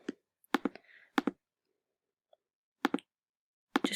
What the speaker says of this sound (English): Just clicking that arrow going up and down.